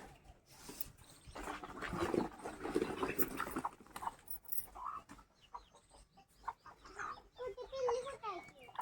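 Hens cluck around a farmyard in the morning, intermittent clucks and calls mixed with birds and other animal noises close by, while people talk in between.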